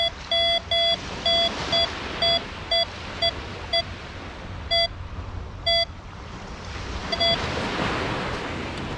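A Nexus MP V2 metal detector on a very low discrimination setting gives short, bright beeping tones in irregular bursts over a large iron target, with a steady background of outdoor wind or surf noise.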